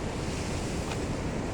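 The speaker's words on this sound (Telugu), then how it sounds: "చూడండి, చాలా వేగంగా ప్రవహిస్తుంది కృష్ణానది" The Krishna river rushes fast with all dam gates open, a dense, loud, steady roar of churning water mixed with wind buffeting the microphone, no speech.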